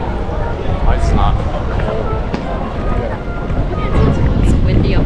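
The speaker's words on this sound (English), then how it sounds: "It's windy up in here." Strong wind gusting over a hilltop at the Peak in Hong Kong, buffeting the microphone with a steady loud rumble throughout.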